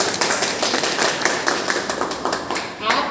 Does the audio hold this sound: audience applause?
yes